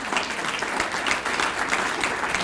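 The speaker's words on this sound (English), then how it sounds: "let's give Perry a round of applause" An audience applauds at a public event honoring a guest's husband, a dense, steady clapping that stays close and even for the whole stretch, with no one speaking over it.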